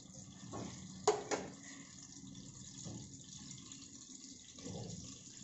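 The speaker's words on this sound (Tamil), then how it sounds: "இந்த பச்சை மிளகாயை ஒரு லைட்டாக ஃப்ரை கொடுத்துட்டு" Green chillies fry lightly in a pan, making a faint, low sizzle with a couple of sharp clicks near the start and soft stirring swells, recorded close and quiet without speech.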